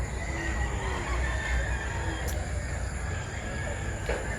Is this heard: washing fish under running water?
no